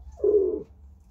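A pigeon gives a single soft, low coo lasting about half a second, close by against a faint low hum.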